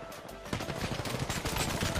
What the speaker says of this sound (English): Wait, why is he shooting?